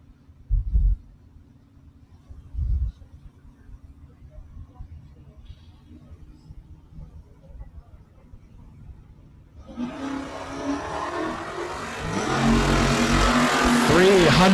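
At a drag strip shootout, a 78 Malibu and a 72 Maverick launch. A few dull thumps and a low idle rumble swell into a loud, roaring engine blast with tire noise as the cars leave the line.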